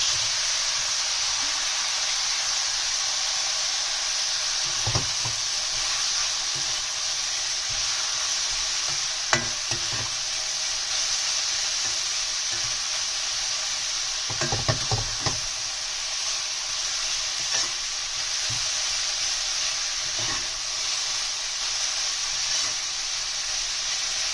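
Chopped cabbage and green chillies stir-fry for street-style veg chowmein, a continuous hissing sizzle broken by sharp metallic knocks and scrapes of a spatula against the pan, in bursts.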